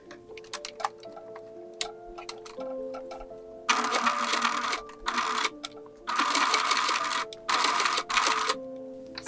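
A sewing machine stitches down the straps on small doll overalls, starting with ticking and clicking of the mechanism, then running in several loud whirring bursts separated by short pauses.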